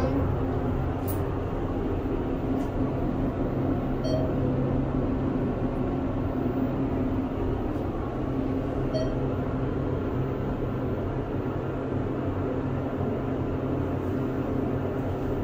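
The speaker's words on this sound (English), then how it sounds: "Thyssenkrupp elevator." A ThyssenKrupp elevator in a hotel runs with a steady, even mechanical hum and rumble, moderately loud and unbroken for the whole stretch, with faint small clicks and no talk.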